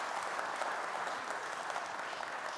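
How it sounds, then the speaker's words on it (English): Audience at an annual meeting breaks into steady, even applause, a dense clatter of many hands that holds for a couple of seconds at moderate loudness. "Give her a round of applause."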